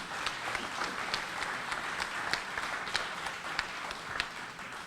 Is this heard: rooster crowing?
no